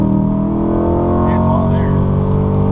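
A C8 Corvette fitted with a Borla ATAK exhaust roars with its valves open in loud mode, a loud, sustained throaty rev that stays dense and continuous, with someone talking briefly over it.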